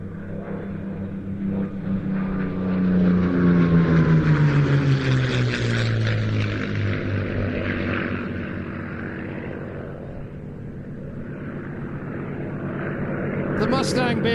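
A P-51 Mustang at the Old Buckenham Airshow drones loudly overhead, its propeller-engine tone sliding lower as it passes, while a commentator talks over it throughout.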